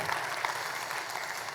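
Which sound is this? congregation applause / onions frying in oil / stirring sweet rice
congregation applause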